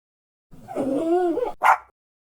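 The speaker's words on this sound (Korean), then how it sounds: "강아지다." Dog out on a walk in a park, giving one drawn-out whining, howling vocalization followed by a short sharp bark, close and clear against otherwise silent surroundings.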